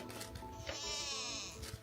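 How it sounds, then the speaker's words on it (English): A goat bleats in one long, wavering cry over steady background noise beside a road trip stop in Oman. "you can hear our goat in the background pleading"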